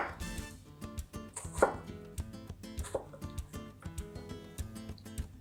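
A knife chops onion on a cutting board with a rapid run of sharp, close taps in an irregular rhythm, each strike crisp against the board.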